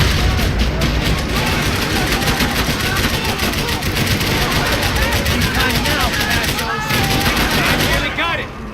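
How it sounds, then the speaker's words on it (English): A gunfight in Max Payne 3: relentless close automatic gunfire with bullets whizzing past, dense rattling bursts running almost without pause, with voices shouting over the din. "I can't concentrate with bullets whizzing past my head!"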